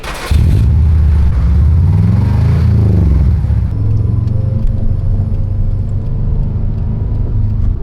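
Car driving on the road after front ball joint replacement, a steady loud engine rumble with road noise heard from inside the cabin, the engine pitch shifting slightly as it pulls away.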